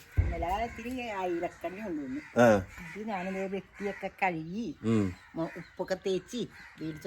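Harsh, repeated caws from a crow sound close by in short bursts, one after another over several seconds.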